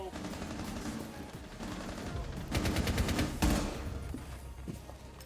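Rapid gunfire in Rainbow Six, with steady action-game noise throughout and two loud clusters of shots around the middle, each followed by a fading tail.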